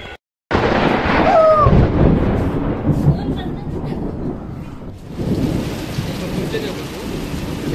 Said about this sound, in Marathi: ढगांचा आवाज आहे का?